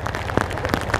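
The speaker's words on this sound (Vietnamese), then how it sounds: "Tuy là mưa quá," Heavy rain pours down on a street near the Cau Kho church in District 1, Saigon, on an afternoon: a steady, close wash of downpour with scattered louder splashes and no voices.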